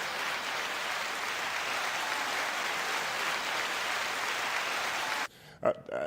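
A crowd claps steadily and loudly for about five seconds, then the clapping stops abruptly and a brief voice is heard.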